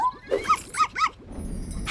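Cartoon dog gives a run of short barks and yips mixed with whimpering whines, close and lively, ending with a brief softer whimper.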